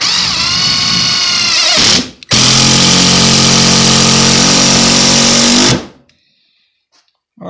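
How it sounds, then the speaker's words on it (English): A cheap Chinese-made impact driver hammers a long screw through two layers of plywood into a 2x4, a loud continuous rattling buzz lasting several seconds after a brief first burst, then stopping abruptly into near silence. "I managed to drive through two pieces of plywood into a 2x4"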